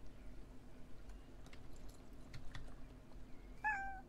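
A cat companion in the horse-riding video game Star Stable Online gives a single short, clear meow near the end over faint background hum and soft game clicks.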